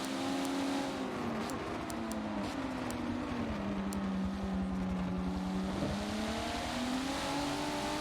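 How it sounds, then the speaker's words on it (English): A white race car at Brands Hatch comes around the bend, its engine a steady loud drone that dips slightly in pitch then rises again as it passes, with no talk over it. "Great shot here of the white transformer car coming around the bend."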